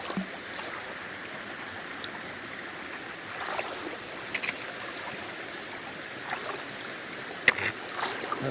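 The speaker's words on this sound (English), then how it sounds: "that's Owens Creek. It's going to be a wet crossing" Water rushes and swirls steadily as a hiker wades through Owens Creek on a wet crossing in the Ozark Highlands in March, with occasional sloshing splashes over a constant close stream roar.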